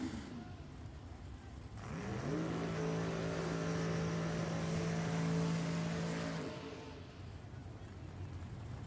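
Camaro drag racing car at a dragway roars loudly down the strip for several seconds with a steady rising engine note, then fades, over a background of crowd and track noise.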